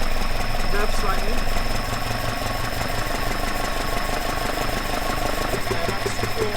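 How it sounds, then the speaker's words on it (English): An engine with twin Dellorto/Weber carburettors runs at a steady, slightly raised idle with a rough, even pulse and faint mechanical whine, close up, while a person talks over it. "So I'm just going to bring up the rev slightly."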